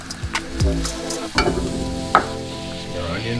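Chopped onions and peppers sizzle in a pan for a plant-based tofu scramble, a close, moderate frying hiss broken by several knocks and scrapes of stirring.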